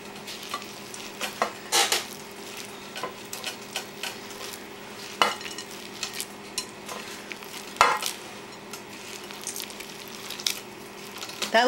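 Garlic sizzles in a pan while a non-wooden utensil stirs it, giving a steady frying hiss punctuated by repeated scraping strokes and light metallic clinks close by.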